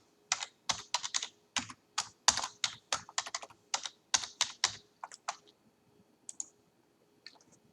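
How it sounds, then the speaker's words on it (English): A password is typed on a computer keyboard, a quick run of crisp, close key clicks in an uneven rhythm that slows and trails off into a few final taps. "I'm going to go ahead and enter a password."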